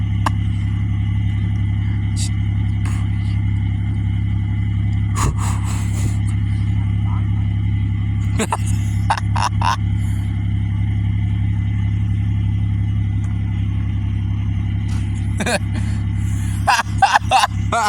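A 1998 Buick LeSabre with smoke pouring from its exhaust runs steadily at a low, even rumble, with occasional clicks and bursts of faint noise over the continuous engine drone.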